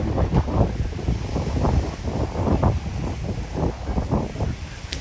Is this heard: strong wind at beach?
yes